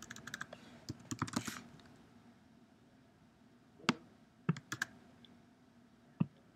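Typing on a computer keyboard while adding a note: quiet, close bursts of rapid key clicks followed by a few isolated taps, with no voices.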